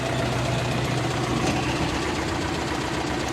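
A YuMZ-6 tractor's diesel engine idles nearby during heavy spring ploughing, a steady low rumble with an even knocking pulse and constant loudness throughout, without speech.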